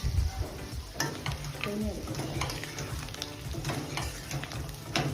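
Chicken ghee roast fries in a pan as it is stirred, with a steady sizzle and repeated scraping stir strokes up close, and a little ghee added for flavor.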